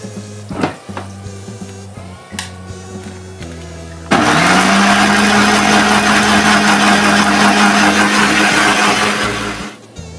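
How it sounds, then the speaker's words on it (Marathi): Mixer grinder whirring up to full speed and running loudly for about six seconds before winding down, after some brief clattering and handling noises. "शिजवून घेतला तो आता मिक्सर लावला"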